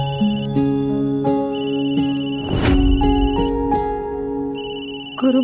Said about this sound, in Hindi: पब्ली को फोन करती हूँ, कहीं कुछ और नहीं किया होगा।